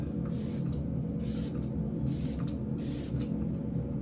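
Makeup setting spray misted onto the face in a few short hissing bursts, spaced about a second apart, close and clear over a steady low background hum.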